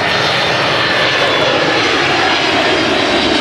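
A Hawaiian Airlines fixed-wing airliner passes overhead near Fort Kamehameha at Hickam, Hawaii, its loud engine roar steady and sustained throughout, with no talk over it.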